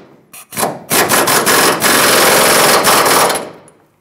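A 21 mm socket on a power wrench rattles a rear leaf spring shackle bolt tight on a 2008-2010 Ford F-250 Super Duty, a loud, close burst of about two and a half seconds after a few short taps.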